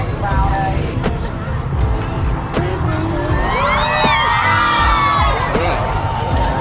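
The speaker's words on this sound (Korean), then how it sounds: "여기서 같이 환호해 주는 것 같아." Fans gathered outside My Dinh Stadium in Hanoi during a concert cheer and shout as a crowd, a loud continuous roar with high children's voices rising above it and nearby people talking.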